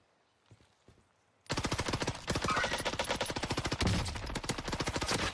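Long-range gun in the Caldera map of a Call of Duty game firing a rapid, sustained burst of loud close shots in a fast regular rhythm after a quiet start.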